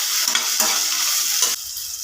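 Chopped tomato stirred in a frying pan with onions for a drumstick stir-fry, a dense close sizzle with several brief spatula scrapes in a two-second burst.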